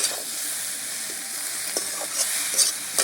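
Curry sautéing with chilli powder in a pan, a continuous close sizzle broken by several quick scraping stirs and light clatters.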